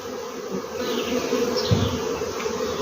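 Honeybees foraging on blooming acacia on a clear sunny day, a steady close buzzing hum that continues throughout with a few passing individual bees growing louder then fading.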